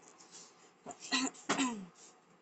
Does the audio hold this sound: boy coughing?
yes